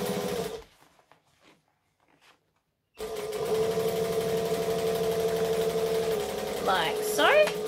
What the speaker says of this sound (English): back stitch to lock it in, and we're making sure that that seam is under where I'm stitching.